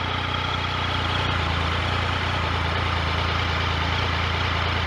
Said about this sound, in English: Let's hear that motor, which is a great motor.